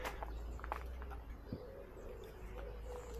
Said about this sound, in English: pigeons here. Can you hear them? Loads of them.